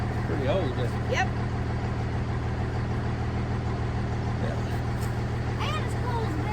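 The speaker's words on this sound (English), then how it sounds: "is an old gas truck" An old gas farm truck idles steadily with a low, even engine hum throughout, while people talk faintly over it.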